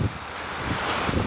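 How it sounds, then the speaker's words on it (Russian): Steady wind rushes and hisses loudly and continuously, close to the microphone, with a broad whooshing roar that covers the short moment and has no voices in it. "Свистел ветер."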